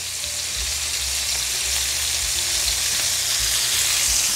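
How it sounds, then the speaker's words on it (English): A rib eye steak sears in a hot pan, giving a steady, close, loud sizzle that holds evenly throughout with no one talking. "we get a nice sear on the other side of this steak"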